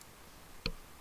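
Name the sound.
computer mouse click in Revit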